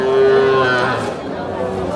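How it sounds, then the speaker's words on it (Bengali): A dairy cow at a village cattle market gives one loud, drawn-out moo close by, filling the whole moment over faint market background. "এই যে একটা গাভী গরু"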